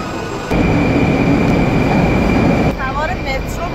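A Moscow metro train roars steadily nearby with loud broadband rumble, then the noise drops and squealing wheel tones rise and fall as it slows, with people talking in the background.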